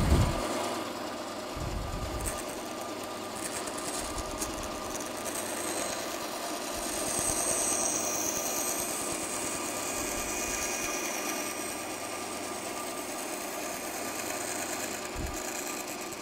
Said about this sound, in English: Now we'll go over the bandsaw and cut that out.